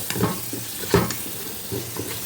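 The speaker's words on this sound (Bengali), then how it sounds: "এবারে ভালোভাবে নেড়ে চেড়ে এর মধ্যে আমি ডাউলগুলো দিয়ে ভালোভাবে ভেজে নেব" Dal stirred and fried with whole spices in a pan for khichuri gives a steady close sizzle, broken by several louder scraping stir strokes in uneven bursts, with no talking.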